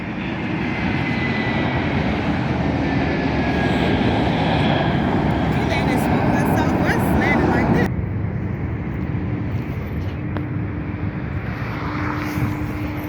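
A Condor airliner's jet engines roar loud and steady at Las Vegas airport, then the sound drops abruptly to a lower, duller rumble with a faint tonal whine. There is wind noise throughout.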